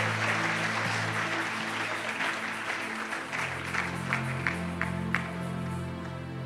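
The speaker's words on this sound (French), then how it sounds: "Give a mighty hand clap for the Lord." Applause and hand clapping from a worship congregation at a church service, a dense, steady clapping that lasts throughout with sustained music tones underneath.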